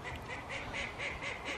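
A female duck quacks at a poultry breeding farm with other ducks nearby, giving a steady run of about six evenly spaced, moderately loud nasal quacks.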